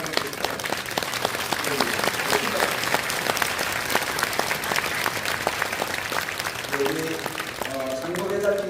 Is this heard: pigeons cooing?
no